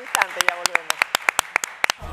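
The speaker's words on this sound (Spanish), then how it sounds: "Un fuerte aplauso para Rubén, señores." Sharp, distinct claps ring out in a quick regular beat during a Spanish-language studio show, applauding a film critic guest named Rubén. A brief voice or tone sounds at the start.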